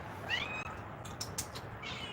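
A house cat meows a few times indoors, short rising calls that stand out against a quiet background hum.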